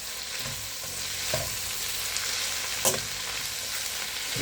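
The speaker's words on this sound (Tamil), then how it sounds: "இதில் வதக்கி விட்டுக்குவோம் நல்லா" Salted ingredients for rava dosai sizzle in a pan, a dense steady frying hiss close by, with a few soft scrapes and one sharp knock of a spoon stirring.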